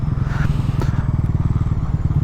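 A Bajaj Pulsar NS400 motorcycle engine throbs steadily at close range while riding through Kyiv, a pulsing low rumble with slight revving, heard alone.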